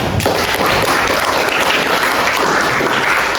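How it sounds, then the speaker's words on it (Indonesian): Students and attendees at the end of a classroom session break into steady applause, dense close clapping that keeps going without pause and stays loud throughout. "Tepuk tangan untuk semuanya."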